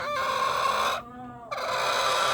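Hens keep up a dense chorus of clucking, with a brief quieter dip in the middle before the calls resume, loud and close.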